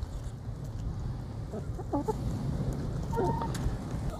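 Chickens cluck and murmur softly while pecking at pumpkin, with a few short calls rising over a steady, close background of rustling and feeding noise.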